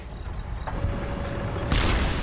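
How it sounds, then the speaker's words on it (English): A dull rumble of distant heavy tank gunfire, then a sharper, louder blast near the end over a continuous low background roar. "Wittman blasted the enemy with furious barrages of gunfire"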